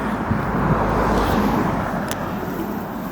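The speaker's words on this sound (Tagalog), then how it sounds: "ang ingay ng mga sasakyan" Road traffic rumbles past during an outdoor walk, with a steady, fairly loud roar of passing cars and a brief higher swish near the end.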